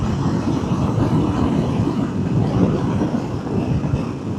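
KTM Super Adventure S 1390 motorcycle riding in sport mode, its engine holding the revs in a steady, loud drone mixed with rushing wind and road noise, with no talking.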